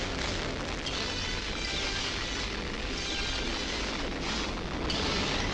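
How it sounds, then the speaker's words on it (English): Rocket engines ignite in a 1965 sci-fi film, a dense, continuous roaring blast that holds at full strength without letting up. "Rockets, ignite!"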